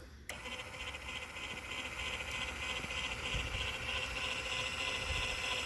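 Electric Johnny Bucket lift actuator on a 2021 Cub Cadet tractor with front mount brackets, a sharp click followed by a steady, fairly quiet motor whine and hum that holds evenly as the lift moves, with no talk.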